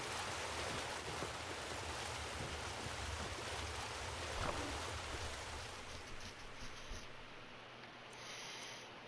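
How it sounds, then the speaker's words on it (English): A small waterfall in the video game Skyrim pours in a steady, dense broadband rush, loud and continuous with no talking. "Little waterfall."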